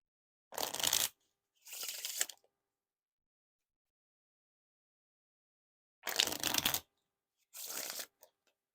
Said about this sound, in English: Now for some riffle shuffles or the bridge shuffle.